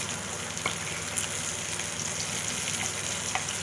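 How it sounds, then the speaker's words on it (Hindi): Garlic and onion fry in a pan with a steady, close sizzle and crackle and occasional faint stirring clicks, no voices. "ये हल्के से फ्राई हो गए हैं। अब हम इसमें प्याज डालेंगे।"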